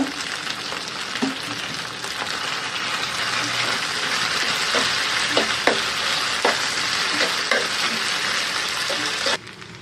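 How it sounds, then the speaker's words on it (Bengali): Macaroni tossed with spice mix in a frying pan gives a steady close sizzle and hiss, with scraping stirring strokes knocking through at irregular intervals for most of the stretch before it drops away at the end. "দিয়ে নিচ্ছি ম্যাকারনির মশলা। এখন আবার নেড়ে চেড়ে মিশিয়ে দেব।"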